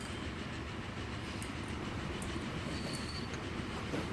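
A grain train runs in the Transport Fever 2 game, a steady rumbling roll of rail cars with faint clicking wheels and occasional high squeals, constant and unbroken throughout.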